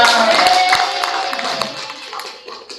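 Students clap together in a classroom in a short burst of light, scattered hand claps that fade quickly, with a faint tonal hum underneath.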